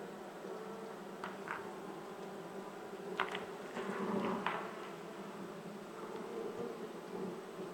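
Honeybees buzzing around an open beehive during a hive inspection, a soft steady drone with a few closer individual bees passing by over quiet outdoor background.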